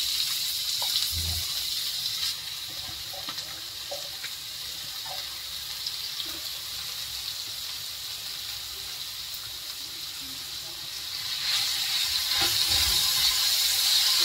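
Finely chopped onion fries in a pan for a potato bhaji, producing a steady, soft, hissing sizzle that holds evenly throughout and swells slightly near the end.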